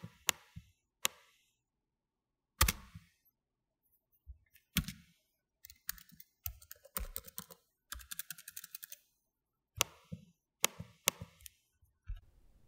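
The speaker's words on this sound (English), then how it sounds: "That kind of sounds like a computer, like the keys clicking." Computer keyboard keys clatter in irregular bursts of close typing and clicking during editing, with quick runs of keystrokes broken by short pauses and no voices.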